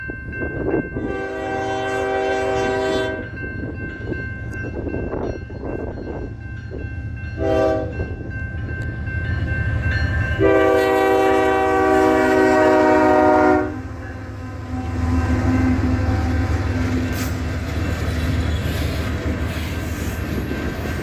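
A westbound freight train with a Southern Pacific unit third in the consist rumbles past, blowing several loud horn blasts over the steady low roar of the passing cars.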